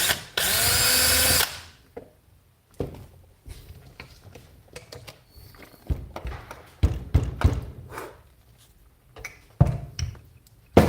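A drill bores into the body of a cheap guitar in a luthier's workshop: a loud steady whir for about a second and a half, then scattered taps, thuds and handling knocks.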